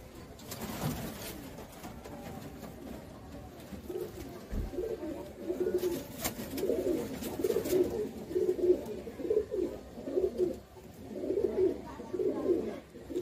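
Old black-eyed pigeons, kept about eight to ten years, coo in a steady repeating rhythm that grows fuller and closer toward the end, over a soft murmur with some faint talk early on.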